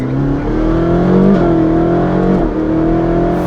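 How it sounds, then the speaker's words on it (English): A Ferrari 458 Speciale fitted with a Novitec stage 3 exhaust revs loudly and close by, the engine note rising and dropping through several blips in a steady, full-bodied roar. "That stage 3 exhaust we put on this car."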